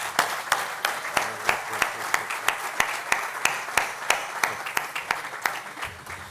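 Applause with regular, rhythmic clapping, like a crowd clapping in unison at a steady beat, fairly close and moderately loud, at a political event in the rain.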